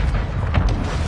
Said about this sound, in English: We're getting mortar striked.